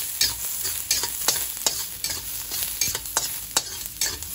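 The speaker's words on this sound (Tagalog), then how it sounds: "Hindi naman kailangan natin maraming mantika sa paggisa." Garlic sautés in a small amount of cooking oil, crackling steadily while a spatula scrapes and taps the pan in quick, repeated strokes; nobody speaks.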